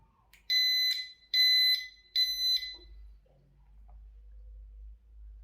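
A home burglar alarm panel gives a few sharp, high electronic beeps in short bursts as it is disarmed by remote, close and clear, followed by near silence with a faint low hum.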